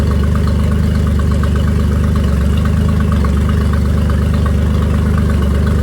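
A Tohatsu 40 outboard boat motor idles steadily nearby, a loud, even low-pitched putter with a rapid regular pulse and no talking.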